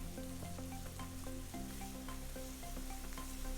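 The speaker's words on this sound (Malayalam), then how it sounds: "ഒന്ന് സോട്ട് ചെയ്തെടുക്കണം." Chicken sautéing in a pan for a spicy chicken dish gives a steady, close sizzle and frying hiss with light stirring scrapes throughout and no voices.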